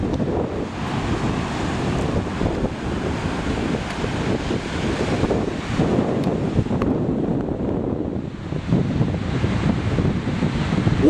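Big ocean surf rolls and crashes under strong gusting wind on a beach, a loud, continuous roar with heavy wind buffeting the microphone and no voices.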